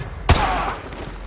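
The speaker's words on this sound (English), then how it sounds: "Roach, take the shot. Open his leg." A single sharp gunshot from Call of Duty: Modern Warfare 2 Remastered cracks loudly near the start, followed by a short ringing tail and faint background ambience.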